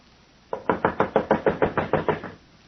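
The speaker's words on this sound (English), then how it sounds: "You knock like the very devils behind you." Someone knocks on a fortune-teller's door: about ten loud, evenly spaced, rapid raps in a steady rhythm, heard alone and close up.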